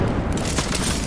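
A frag grenade blast in the Apex Legends video game at Worlds Edge comes through as one loud, dense, rumbling boom that fills the whole short moment.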